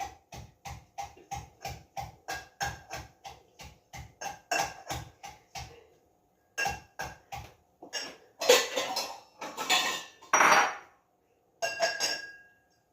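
Onions crushed in a mortar for an onion chutney: a steady run of sharp pounding thuds in an even rhythm, then a pause, then heavier, rougher grinding strokes, close and fairly loud with no talk.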